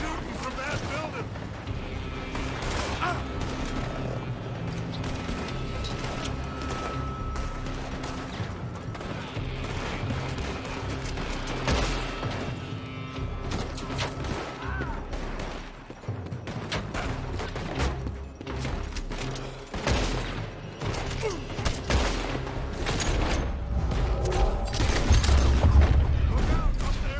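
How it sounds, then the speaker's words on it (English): Gunfire from a building in the Western game Red Dead Redemption 2, dense repeated shots and bursts over a continuous background of game sound and music, with voices speaking throughout. "They're shooting from that building."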